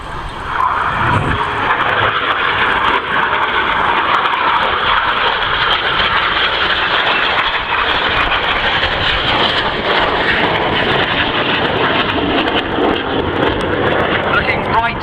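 Harrier GR9 jet roaring steadily overhead at an air show, a loud continuous broadband engine noise that persists throughout, with an announcer talking over it.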